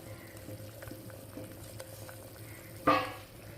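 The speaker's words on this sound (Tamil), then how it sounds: "இப்போ தக்காளி கொதிச்சிருச்சு தக்காளி கொதிச்சிருச்சு" Tomatoes boiling in a pot for tomato water chutney, a soft, steady bubbling simmer close by, with a brief louder clatter or stir near the end.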